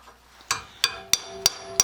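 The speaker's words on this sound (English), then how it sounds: "using a hammer and chisel, it's not called chiseling" Five sharp metallic hammer blows on a chisel, chipping at a weld in a steady rhythm, close and fairly quiet.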